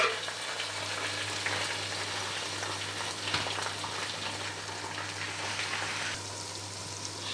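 Onions, ginger, garlic and tomatoes sizzle and fry in a pan, a steady soft crackle with an occasional stir, no voices.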